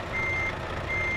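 Reversing beeps from a Volvo FH16 truck in Euro Truck Simulator 2: two steady, high electronic tones, one long and one starting near the end, clear and continuous over a low engine drone.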